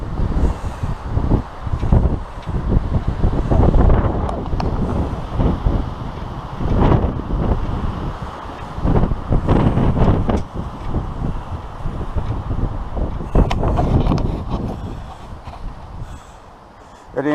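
Strong wind buffeting a campsite with a tent and makeshift windbreak, loud gusty roar rising and falling against the microphone throughout, with rustling and flapping bursts.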